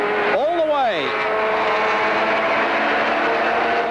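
Race car running flat out down Conrod Straight at the 1979 Bathurst 1000, engine roaring loud and steady from inside the cockpit, with a quick rising-and-falling pitch sweep early as it shifts gears.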